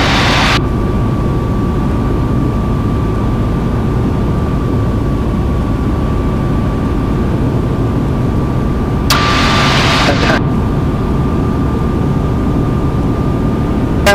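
A C42 light aircraft in flight, its engine drone loud and steady throughout from inside the cabin, with a steady tonal whine and brief bursts of broadband noise near the start and around the middle.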